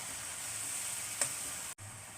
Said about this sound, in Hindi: अब इसमें ये टमाटर डाल देंगे और इनको भून लेंगे मसाले के साथ।